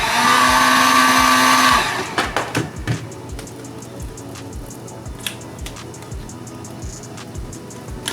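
A heat gun warming Onewheel XR grip tape blows a loud, steady high whine for about two seconds, then cuts off, leaving quieter scraping and tapping sounds.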